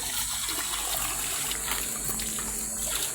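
Steady water trickling and dripping from a leaking water tank against a constant rushing hiss, with some air still in the line, with no pauses throughout.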